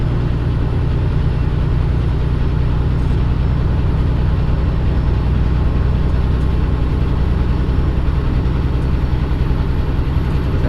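A heavy truck engine revs hard at about 12,000 RPM in a tall gear, a loud steady low-pitched drone with constant road and cab rumble and no talking.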